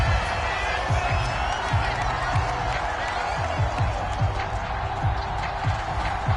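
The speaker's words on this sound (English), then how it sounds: "This home crowd, they're happy with that call." Home crowd at a Miami versus Colts American football game cheering a referee's call, a steady roar of distant massed voices and whoops filling the stadium with commentators talking over it.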